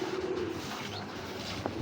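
Giribaz pigeons coo softly and briefly against a steady background hum, heard from close by in a pigeon loft.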